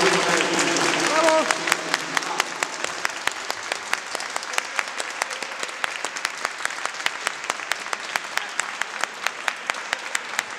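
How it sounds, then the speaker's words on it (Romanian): A concert audience at a brass section performance breaks into applause that starts thick with a voice over it, then thins into scattered, sharp individual claps continuing steadily for several seconds. "niște aplauze fierbinți, dar fierbinți așa să fie, pentru studenții de la Părinte Tămaș"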